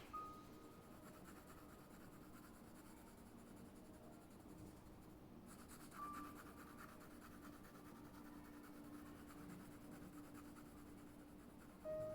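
A dark pencil shades a sketch on paper with a soft, continuous scratchy rasp. The sound stays faint and even, with small swells where strokes press harder, and no voices.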